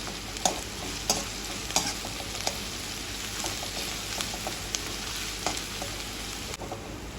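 Vermicelli sizzles steadily while being sautéed in a pan until light brown, with a continuous frying hiss and irregular sharp taps and scrapes of a spatula stirring against the pan.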